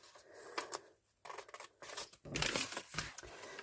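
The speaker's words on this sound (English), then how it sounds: "so I'm going to use my scissors" Scissors cut paper for a multi-pocket junk journal page, a close series of crisp snips in uneven bursts with short pauses between them, and no talking.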